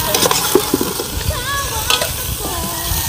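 Food in a pan is stirred while cooking, with soft scraping and clinks over a gentle sizzle. There are short sparse utensil knocks and faint background voices.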